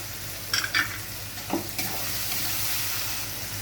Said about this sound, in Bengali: এবার আমি দিয়ে দিচ্ছি পাস্তা মশলা, দিয়ে আমি এটাকে ভালো করে নাড়াচাড়া।